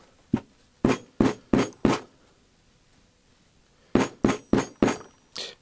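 Nine sharp metallic taps on the stuck piston of a Chinese diesel heater, struck in two quick bursts of five and four with a pause between, close and clear.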